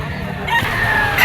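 A dark-legged malatuba bull stag rooster at a live bird auction in Lipa lets out a short, loud, close crow that rises toward its end, with faint talk around it.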